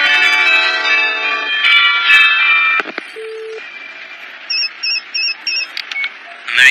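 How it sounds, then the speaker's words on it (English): A marionette clock chiming: bright bell-like tones ring out in a dense cluster, then a short pause gives way to a run of five evenly spaced higher chimes, close and fairly loud with no speech. "A marionette clock. I'm sure that's what that sound was."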